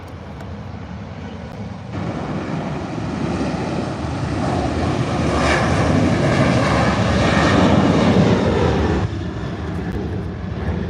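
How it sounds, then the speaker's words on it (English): A United airliner on its takeoff roll, broadband jet engine roar swelling up from a steady background, holding loud and full for several seconds before easing back, distant but powerful with no talk over it. "All right, the United on the takeoff roll."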